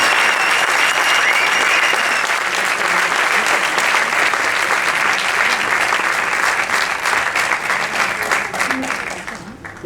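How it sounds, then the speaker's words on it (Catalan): A festival inauguration audience claps in sustained, dense applause for about ten seconds, loud and even, then it thins out and fades toward the close. "Un aplaudiment,"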